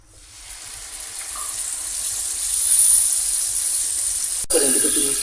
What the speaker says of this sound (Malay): Dan kita tumiskan kita punya bahan-bahan yang telah kita kisar